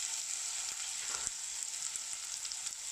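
Onions frying in a pan give a soft, steady high hiss with a faint tap or two, quiet and continuous over a few seconds.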